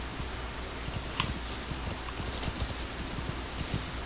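Horse hooves clip-clop at a steady walking rhythm in the Metal Gear Solid V video game, soft and fairly distant over a faint windy outdoor background, with no talk.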